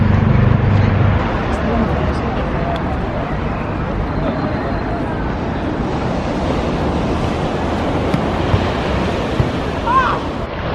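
Surf rolling onto a beach in A Coruña, northern Spain, a continuous loud wash of breaking waves with heavy wind buffeting the microphone throughout.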